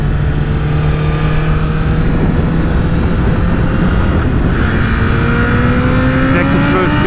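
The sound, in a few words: Honda CBR1000RR Fireblade motorcycle accelerating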